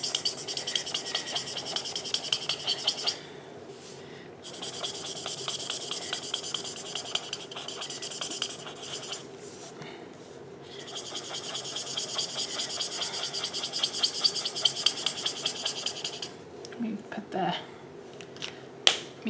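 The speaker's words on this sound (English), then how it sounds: "Oh, this marker sounds horrible." A marker scratches and squeaks steadily across a cookie while decorating it, in long continuous strokes, close up, with brief pauses between passes.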